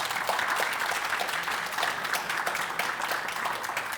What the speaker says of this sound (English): I also want a big round of applause for our speakers here